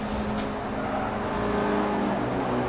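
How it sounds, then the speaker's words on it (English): Ford RS 200 race cars in Forza Motorsport 4 drive steadily past with a continuous, loud engine drone and a brief sharp burst near the start. "we've got a bunch of other cars just pulling into pit lane"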